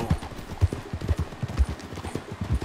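Horse hooves clip-clop at a steady walking rhythm in Red Dead Redemption 2, close and fairly loud, each low thud distinct, with faint game ambience behind and no talk.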